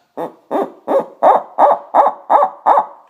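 A human imitation of an owl, produced by blowing into cupped hands, gives eight steady, evenly spaced hoots, close and loud, with nothing else heard.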